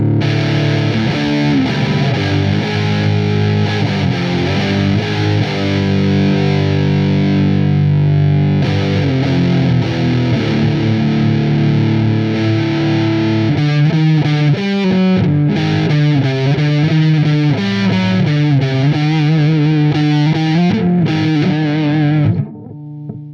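An EVH Wolfgang Custom Standard electric guitar plays through heavy distortion, loud and up close, with sustained chords and riffing that turns to choppier strummed passages before cutting off at the end.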